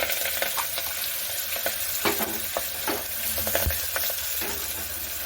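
Steady, loud sizzling of spinach frying in hot tempering oil, with occasional stirring scrapes and crackles throughout.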